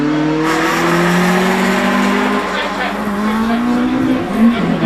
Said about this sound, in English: Samantha Lester heads away in the Peugeot 106 GTI.